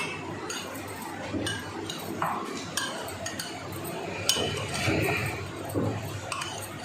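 Kidney beans, tomatoes and mint leaves are tossed together in a bowl for a red bean salad. A spoon clinks and scrapes against the dish in scattered, uneven taps, close and moderately loud.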